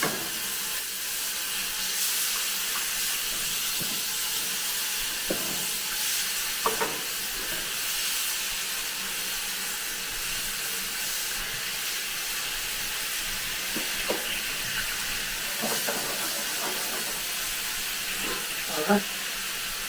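Skin-on salmon fillets fry in a pan with a steady, close, broadband sizzle and hiss that runs throughout, broken by occasional soft clinks and stirring bumps.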